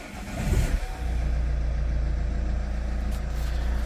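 Vauxhall Insignia car engine cranking and catching, then settling into a steady, close, low idle rumble with a slight rev at the start.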